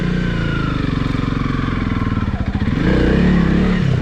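Honda CRF300L motorcycle riding in first gear through damp woods, its engine loud and close with a steady chugging note that rises as it revs near the end.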